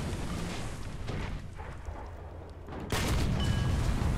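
Tank gunfire in War Thunder: booming cannon blasts with rumbling, echoing tails, followed by a sudden louder blast near the end, heavy and close with no talk.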